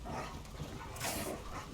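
Zombie dogs in the video game Black Ops Cold War's Die Machine zombies map snarl and yip faintly in the background, a low, muffled growling amid other game noise.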